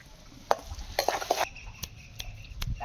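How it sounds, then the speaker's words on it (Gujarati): Garlic frying in peanut oil, with a soft sizzle beneath sharp clinks and scrapes of a utensil stirring against the pan, the taps coming irregularly at a close distance. "તો થોડીક લસણ આપણે સડવા દઈશું"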